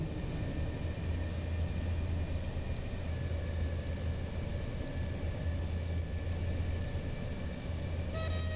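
A passenger train of eight to ten coaches runs steadily through curves in the Simrail simulator on the Starzyny to Kraków line, a constant low rumble and rail hum with a faint engine drone, no voices.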